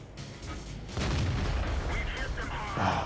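A tank gun fires in World of Tanks heavy-tank battle gameplay: a loud, heavy boom erupts partway through and trails off in a rumbling tail, with a second blast near the end, under a voice.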